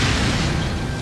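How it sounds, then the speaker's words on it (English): A single loud, deep boom of a grenade explosion in a funeral crowd, with a rumbling, dense body sustained for about a second. "Suddenly, there is an explosion."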